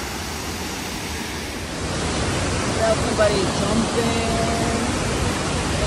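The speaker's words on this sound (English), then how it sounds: "We made it to the waterfall here." Waterfall pouring in a steady broadband roar that grows louder partway through, with people talking over it.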